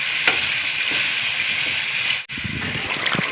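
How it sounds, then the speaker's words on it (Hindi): Chilies and masala with yogurt fry in a pot for potato pulao, giving a close, continuous hissing sizzle with a brief dip partway through before the bubbling crackle resumes. "अभी मिर्ची को जो है ना अच्छी तरह भून लेंगे"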